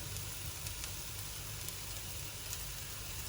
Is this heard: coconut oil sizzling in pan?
yes